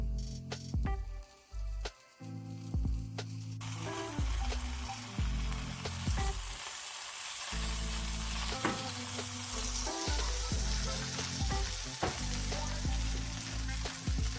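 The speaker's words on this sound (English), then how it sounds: "we're going to put it on the grill. Take our heavy pan, push down on it." A vegetable sandwich sizzling steadily on a grill while pressed under a heavy pan, a continuous loud frying hiss with scattered pops and crackles.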